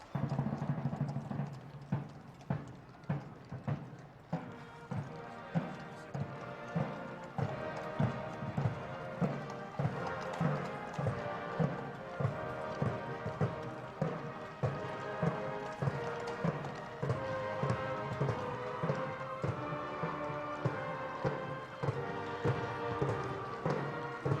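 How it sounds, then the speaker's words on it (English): Hooves of two drum horses clip-clop in a steady, even rhythm at Trooping the Colour 2008, on the parade route near Horse Guards Parade. They are clear and fairly close, beneath a marching military band playing continuously throughout. "And of course, the 2 splendid drum horses behind them, Achilles and Spartacus."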